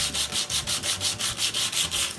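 Dollar Tree sandpaper is rubbed over a craft pumpkin in about ten quick, even back-and-forth strokes, making a close, rhythmic scratchy hiss with nothing else heard.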